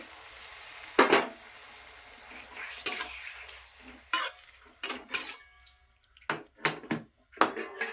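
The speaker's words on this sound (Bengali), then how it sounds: "ঢেকে দিচ্ছি" A cooking pot on a home kitchen stove gets its lid set on after a little water is added, giving several sharp metallic clanks and clatters spaced across the clip over a faint simmering hiss.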